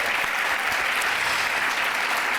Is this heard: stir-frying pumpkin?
no